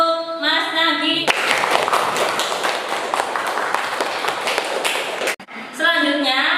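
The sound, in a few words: classroom applause for a student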